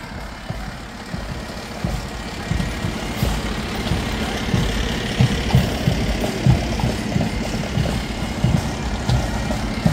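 A New Canaan Fire Department engine idles at a fire department anniversary parade, its diesel rumbling steadily and loudly nearby for the whole stretch, with a faint rhythmic knock and ambient street noise.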